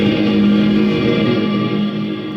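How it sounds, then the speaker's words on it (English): A sustained ambient electric guitar layer from a music production hums as a steady, fairly loud drone with soft echoing texture, heard alone without any voices. "So I have another guitar"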